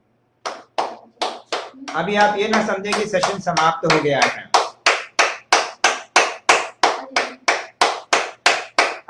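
At the close of a yoga session for PCOD/PCOS, hands clap in a slow, steady rhythm of sharp, evenly spaced claps that continue to the end, with someone speaking over them partway through.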